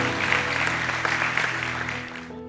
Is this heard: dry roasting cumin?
no